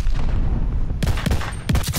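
Gunfire rings out in a hardcore deathmatch in the shooter Call of Duty: Vanguard, with a rumbling backdrop broken by several sharp, loud shots in quick bursts over two seconds.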